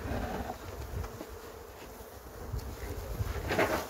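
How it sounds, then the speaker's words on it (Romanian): A steady, dense buzzing of many honeybees close by as they are moved from one hive box to another in winter, continuous for the whole stretch with a few louder swells, and no voices. "noi mutăm acolo albină dintr-o ladă într-alta"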